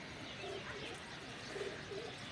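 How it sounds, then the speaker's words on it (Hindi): Pigeon cooing softly nearby, a few short low coos spaced out across a quiet background with faint ambient hiss. "कबूतर अच्छा है वैसे"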